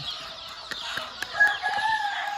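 Native country chickens in an early morning farmyard, soft clucks and calls rising and falling near and far, with a few sharp taps and a higher crowing call emerging toward the end.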